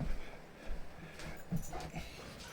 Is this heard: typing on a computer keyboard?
no